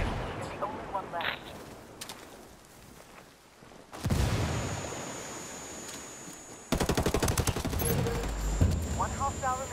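Video game gunfire: rapid automatic bursts crackle in dense rattling stretches, with a quieter lull before loud sustained volleys return, mixed with game noises and voices talking over the action.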